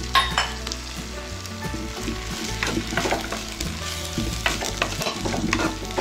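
Banana flower stew being stirred in a hot pan, with steady sizzling and frying and repeated scraping, clattering stirs close by, no voices.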